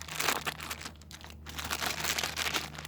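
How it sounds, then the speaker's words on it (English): A bag of chips is crumpled by hand: close, irregular crinkling and crunching in bursts with a brief pause midway, over a low steady hum. "you just crumple the chips up"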